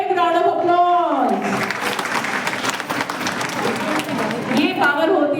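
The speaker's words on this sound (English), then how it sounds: "So please give a big round of applause." Loud audience applause at a women's day celebration, a dense sustained clatter of many hands filling the room, with voices and cheers rising over it at the start and end.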